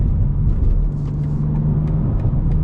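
A manual BMW M2 cruising New York City streets at night rumbles loudly and steadily through a downshift, with faint scattered exhaust crackles over the drone and no voices.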